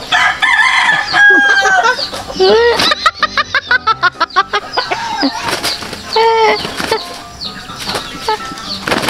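Chickens cluck and a rooster crows loudly nearby, with a quick flurry of wing flapping in the middle and some voices mixed in.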